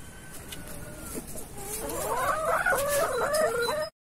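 A rooster gives a string of throaty clucks and calls, growing louder toward the end over faint outdoor background noise.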